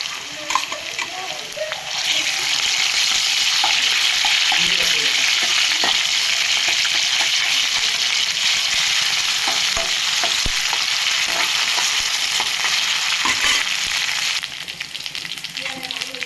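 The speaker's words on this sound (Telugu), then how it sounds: "మసాలా, అల్లం ఉల్లిపాయలన్నీ వేగినాయండి" Onions, green chillies, curry leaves and ginger paste frying in hot oil for a seafood crab curry, a steady loud sizzle with faint stirring clicks, no talking.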